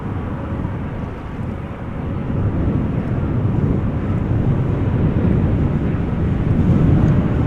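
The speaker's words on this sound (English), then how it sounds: "Right, Lufthansa, in the meantime, just now landed." Lufthansa airliner landing at Amsterdam Schiphol during a storm with strong crosswind, a steady low roar of engines mixed with heavy wind buffeting the microphone, continuous and fairly loud throughout.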